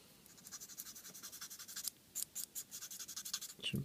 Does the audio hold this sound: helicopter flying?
no